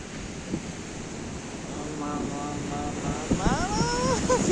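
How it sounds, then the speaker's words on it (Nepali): Ocean surf rolls onto the shore at Paphos, Cyprus, a steady broad wash of breaking waves with wind on the microphone and voices calling out over it. "छाल हेर्नुहोस् छाल"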